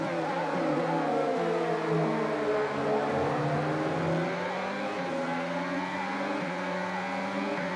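Race cars in F1 2022 roar past with high revving engines, a dense continuous drone of several cars whose pitch rises and falls as they accelerate, loud and steady throughout.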